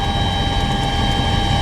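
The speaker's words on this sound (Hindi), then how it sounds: "ये हेलीकॉप्टर जिसमें हम जा रहे हैं इस वक्त, चीतल हेलीकॉप्टर, वहाँ पर उतर सकता है" Steady, loud cabin drone of a Cheetal helicopter flying between close mountain walls toward the Siachen glacier, a constant engine and rotor hum with no talking.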